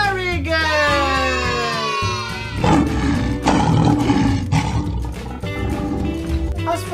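A lion's deep roar rises and falls over the first two seconds, followed by a dense, loud rumble of continued roaring that fills the rest of the clip.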